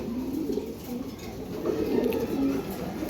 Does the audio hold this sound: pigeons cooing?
yes